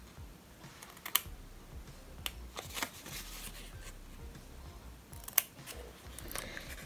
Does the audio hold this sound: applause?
no